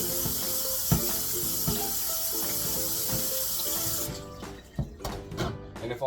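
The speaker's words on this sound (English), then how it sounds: "Now we rinse them again." Tap water runs steadily into a sink, rinsing produce under the stream, then cuts off and leaves a few sharp clatters and splashes.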